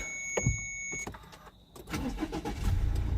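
A high electronic chime cuts off, then a 2017 Subaru Outback diesel engine cranks and catches, settling into a steady idle rumble.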